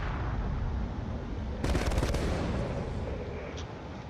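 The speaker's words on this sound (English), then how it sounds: "There is a lot of shots coming in." Rapid burst of gunfire in a video game space battle, a sharp dense volley cutting in suddenly over a steady background roar, then fading to a lower rumble.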